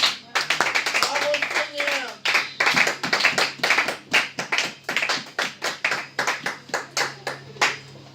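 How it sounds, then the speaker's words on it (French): A church congregation claps in a fast, steady rhythm, loud and close, with voices calling out over the beat near the start. "nous acclamons encore pour la gloire de Dieu"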